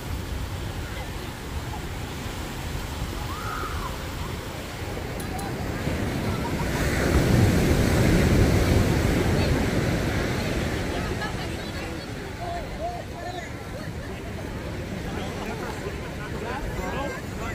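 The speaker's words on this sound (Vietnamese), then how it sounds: "sóng mạnh dở vô kìa" Strong ocean surf rolls and crashes onto a sandy Southern California beach at Corona del Mar, a steady broadband wash that swells louder midway, with wind buffeting the microphone and a voice talking over it.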